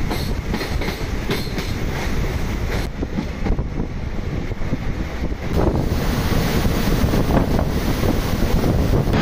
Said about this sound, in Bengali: জলের কিন্তু বিভৎস আওয়াজ, প্রচুর গেট খোলা রয়েছে এখন ফারাক্কা ব্যারেজ